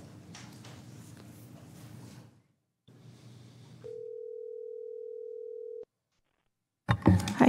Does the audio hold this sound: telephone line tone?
yes